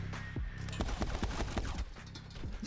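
Twin pistols fired together in the video game My Friend Pedro, a quick, loud string of sharp shots in close succession.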